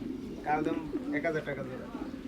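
Giribaj pigeons coo from cages at a busy Bangladeshi pigeon market, their low rolling calls mixed with nearby voices talking throughout.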